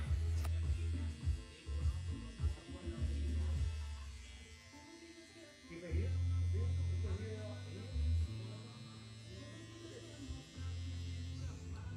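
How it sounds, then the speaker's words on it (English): An electric hair trimmer buzzes while cutting hair around the ears during a mullet haircut, running in intermittent bursts close to the mic with brief pauses between passes. "I'm going to be using a trimmer around the ears"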